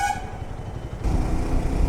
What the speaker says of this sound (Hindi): मैं हॉर्न मार रहा हूँ